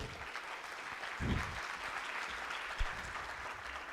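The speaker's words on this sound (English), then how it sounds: "a round of applause for that panel" An audience at a philanthropy forum applauds a panel, a soft, continuous spread of clapping that sounds somewhat distant, with a couple of brief thumps near the stage.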